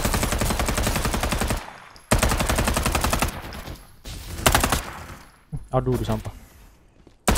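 Automatic gunfire in the video game Farlight 84 comes in long, rapid bursts with short pauses between them, loud and close, while a player talks over part of it.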